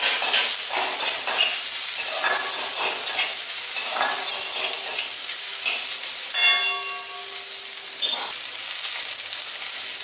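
Slit green chilies frying in a pan of oil for a Bengali mourola fish curry, giving a steady close sizzle throughout with occasional stirring scrapes and a brief clink near the middle.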